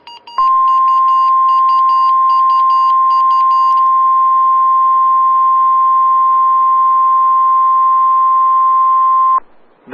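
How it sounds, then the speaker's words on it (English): NOAA Weather Radio All Hazards warning alarm during a weekly Emergency Alert System test: a loud, continuous single-pitched tone holding steady for about nine seconds, preceded by brief bleeping data bursts. "This is a test of the National Weather Service NOAA Weather Radio All Hazards Warning Alarm System in cooperation with the Emergency Alert System."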